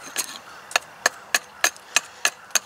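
An axe strikes wood in a steady rhythm while hewing, with eight or so crisp, sharp chops spaced about a third of a second apart, close and fairly loud, as cuts are trimmed.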